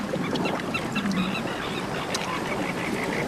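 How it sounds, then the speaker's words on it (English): Kelp geese call from coastal rocks near kelp beds in Chile, with short honking and quacking calls over a constant wash of surf and wind, moderately close and without speech. "plenty of kelp geese browsing on rocks close to the kelp beds."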